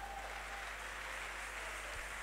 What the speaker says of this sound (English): Can you clap for our Jesus?